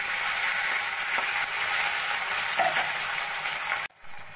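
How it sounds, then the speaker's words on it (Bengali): Sarputi fish frying in hot oil in a wok, a loud, continuous close-up sizzle and crackle that holds steady for several seconds, then suddenly drops away near the end. "এবার আমি মাছগুলো একটা একটা করে ভেজে নেব"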